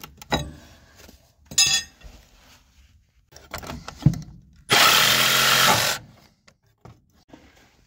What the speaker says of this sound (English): So I use that sawzall to cut the nails.